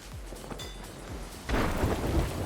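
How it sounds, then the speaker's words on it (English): Thunder from a lightning strike in a fishing video game, a low rumble that swells into a loud, broad crash of rolling noise over steady background hiss, with no talk. "Oh, I just got struck by lightning."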